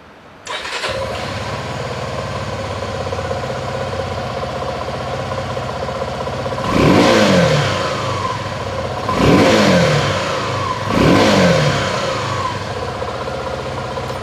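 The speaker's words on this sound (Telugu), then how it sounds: "ఒకసారి ఇప్పుడు మనము ఎగ్జాస్ట్ కూడా విందాము" A Suzuki V-Strom 250 adventure motorcycle fires up with a sharp catch, settles into a steady close idle, then its exhaust swells through three short, evenly spaced revs before dropping back each time.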